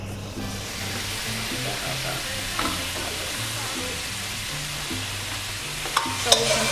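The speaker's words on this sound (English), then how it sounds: "then we just put the bacon in the fry pan" Bacon frying in a fry pan gives a steady, close sizzle with faint stirring and clinks, and a couple of sharper pops near the end; no one talks over it.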